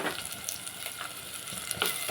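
Onions fry in a pan for a goat head curry, giving a continuous bright sizzling hiss with small crackles and soft stirring sounds, close and fairly quiet.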